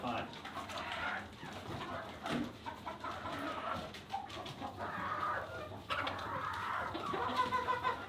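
Chickens in Alaska cluck and peck while eating scraps of roadkill moose meat, giving a busy, close-up run of overlapping clucks and bursts of chatter that go on throughout.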